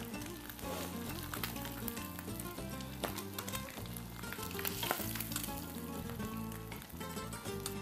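Fish fries in oil on a televised cooking show, a dense continuous sizzle and crackle with light stirring noises, heard close and without talk.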